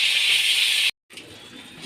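Fish heads dropped into hot oil in a kadai give a loud, steady hiss that cuts off abruptly, then resumes as a quieter, softer crackle.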